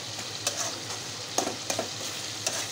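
Dried fish (shutki) fries in a pan with onions, a steady soft sizzle broken by a few sharp spoon taps and scrapes against the pan.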